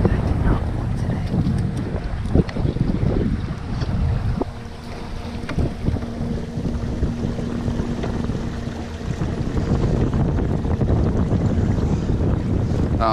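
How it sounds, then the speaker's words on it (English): Steady wind buffeting a microphone on the Charles River in Massachusetts during a bass fishing trip from a boat, a loud continuous rushing roar with occasional thumps, while someone talks over it. "There's a freaking wind that I did not want today."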